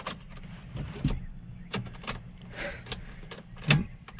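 A small GTI keychain with keys jangles in a few short metallic bursts near the microphone, separated by quiet gaps and faint handling noise, with no talk.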